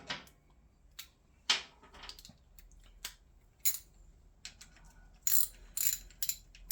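A ratchet tightening a 10mm bolt on a Honda 400T Dream motorcycle, with sharp, close clicking bursts at irregular intervals against a quiet background.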